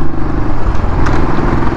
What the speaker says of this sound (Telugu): ఇంజన్ సౌండ్ కూడా చాలా రిఫైన్డ్ సౌండ్లో వస్తుంది అన్నమాట